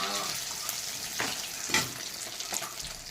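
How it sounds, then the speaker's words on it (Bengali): Pond fish frying in hot oil makes a steady crackling sizzle with a few louder spits and stirring scrapes over a short stretch. "আমার মাছটা ভাজা হয়ে গেছে, আমি কিন্তু এখন নামিয়ে নেবো মাছটা।"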